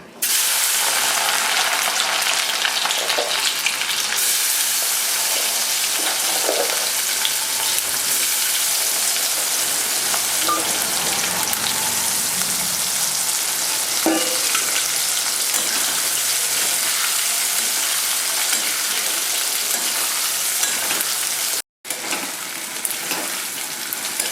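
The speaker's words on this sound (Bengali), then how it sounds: "তেলটা গরম হয়ে গেছে আমি রসুনগুলো দিয়ে দিচ্ছি" Garlic cloves frying in hot oil for garlic pickle, giving a loud, steady, dense sizzle that runs for the whole stretch with only one brief dropout near the end.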